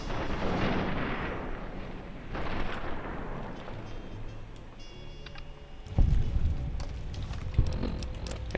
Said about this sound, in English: please stop shooting, because I think I'm getting shot at